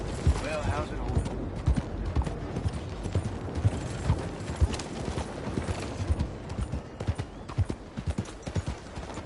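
Horse hooves clip-clop in the Red Dead Redemption II video game, beating in a steady rhythm for the whole stretch amid creaks and other game noise, with some voices heard faintly.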